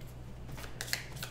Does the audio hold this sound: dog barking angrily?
no